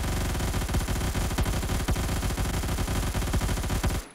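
High-recoil gun in Roblox Phantom Forces firing in long, rapid automatic bursts, loud and close, with sharp repeated shots for about four seconds before cutting off.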